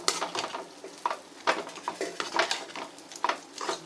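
A spoon stirs crumbled vada into curry in a pan, giving irregular close scrapes and metallic clinks against the pan over a light sizzle.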